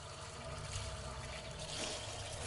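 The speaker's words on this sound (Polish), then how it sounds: "Pod bieżącą wodą będę te wszystkie kwiatki teraz płukać." Dandelion flowers rinsed under a running kitchen tap while making dandelion syrup, a faint, steady flow of water with soft splashing and no talk.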